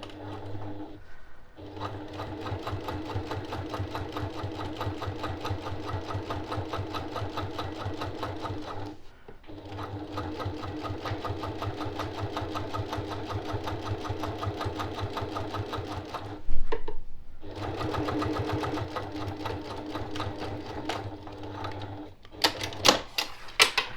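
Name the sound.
sewing machine stitching fabric for a zipper pouch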